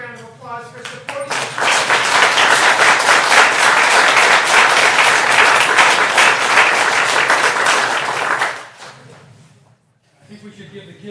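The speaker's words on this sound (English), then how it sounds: "Let's give the parents a round of applause for supporting." An audience at a school governing board meeting claps steadily for several seconds, loud and close, then the applause fades out and a voice starts talking.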